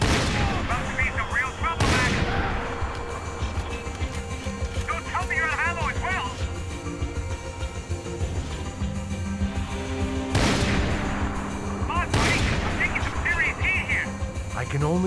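Loud, sharp gunshots from the video game Max Payne 3 crack out a few times, spaced seconds apart, over game sound effects and voices talking.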